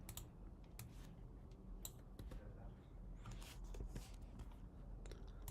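Typing on a computer keyboard, faint scattered key clicks and taps at an irregular pace over a low background hum, quiet and close, without talk.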